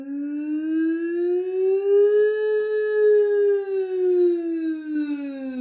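A single sustained sung "ooh" vowel that glides up and then back down in pitch, smooth and steady like a ghostly wind imitation, heard alone and fairly loud.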